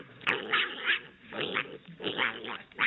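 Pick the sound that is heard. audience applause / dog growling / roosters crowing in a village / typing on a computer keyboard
dog growling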